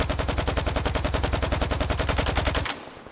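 Rapid automatic fire from a Dnipro rifle in a video game, chambered in 7.62×54, a steady loud burst of evenly spaced shots lasting over two seconds before cutting off into a brief ringing tail.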